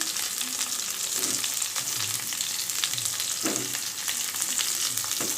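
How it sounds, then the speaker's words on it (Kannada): Eggplant and onion fry in oil for a gravy, giving a dense, continuous sizzle with soft stirring scrapes underneath. The sound is close and fairly loud, with no voices. "ಈಗ ಎಲ್ಲದನ್ನು ಇದೇ ಥರ ಎಣ್ಣೆಯಲ್ಲಿ ಬೇಯಿಸ್ಕೊಳ್ಳೋಣ ಸ್ವಲ್ಪ ಹೊತ್ತು"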